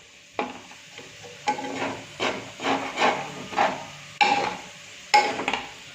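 Potatoes frying in a pan give off a soft sizzle, broken by a series of louder scraping stirs from a spatula about once a second, each swelling and then fading, with no talking.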